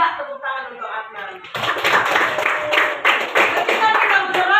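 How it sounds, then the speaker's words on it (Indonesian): A classroom group of students claps for a pupil named Adnan: a short stretch of talk, then a burst of dense, brisk hand clapping that fills the rest of the moment close by. "tepuk tangan untuk Adnan"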